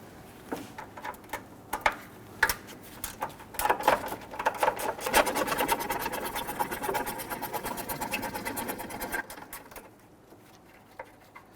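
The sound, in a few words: wrench loosening 12mm bolts on a Toyota RAV4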